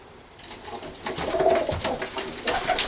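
Oriental Roller pigeons, yearlings in a loft, give soft low cooing calls close by, several overlapping murmuring coos with rustling in the background.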